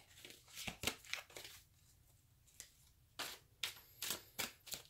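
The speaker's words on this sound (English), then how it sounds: "Let me just give another quick little shuffle." A deck of tarot cards being shuffled by hand: quick papery riffles and flicks in short bursts with brief pauses, close and soft, with no voice.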